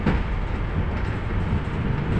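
Inside a new tram running in Krasnodar, a loud steady low rumble of wheels and motor fills the cabin, continuous and without voices.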